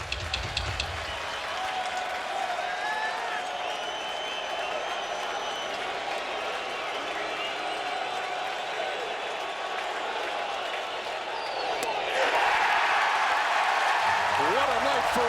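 A crowd of about 55,000 at Dodger Stadium during a 2013 NLCS playoff baseball game keeps up a steady roar of cheering and applause, swelling louder near the end.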